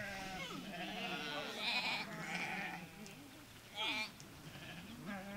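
Sheep bleat several times close by, wavering cries mixed with someone talking over a noisy outdoor background.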